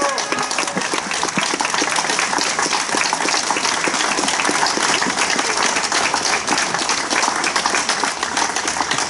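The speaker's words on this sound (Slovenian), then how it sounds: "In en aplavz." Large crowd at an outdoor rally for freedom and justice applauds steadily and loudly, dense clapping filling the whole stretch without letup, with scattered cheers mixed in.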